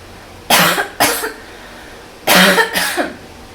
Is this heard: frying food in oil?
no